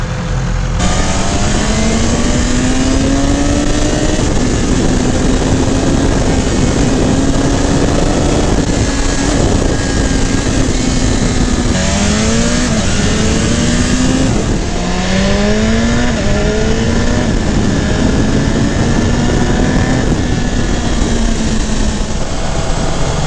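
A 2020 BMW S 1000 RR superbike rides at speed, its engine droning loud and steady under heavy wind rush, with several quick rising pitch sweeps as it accelerates through quickshifted gears.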